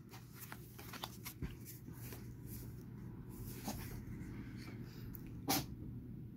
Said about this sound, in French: Vous attendez les animaux qui éternuent.